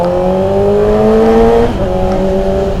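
A Yamaha R6 sport motorcycle in Jakarta revs loudly and close, holding a high, steady engine whine that climbs slightly before a brief dip, with no talking.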